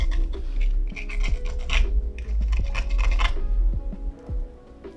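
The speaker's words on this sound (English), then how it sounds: "so I'll just give it a file to make it nice and rounded" A file rounds off the end of a watch crown stem while a Seagull ST36 hand-wound mechanical watch is being built. Short, close, repeated rasping strokes sound in quick succession with brief gaps, and no one speaks.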